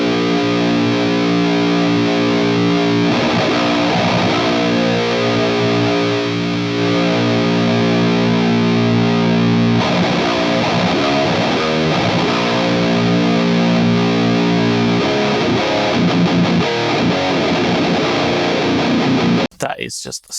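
Heavily distorted 2000s metalcore electric guitar tone from a Fractal FM3 modeler, with dense chugging riffs and palm-muted strings played loud and continuous, ending in an abrupt cutoff.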